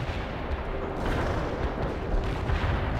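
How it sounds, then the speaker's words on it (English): An artillery strike in the strategy game World in Conflict rumbles as a dense, continuous barrage of deep booms and explosions, heavy and sustained with no clear gaps between impacts. "Artillery strike success."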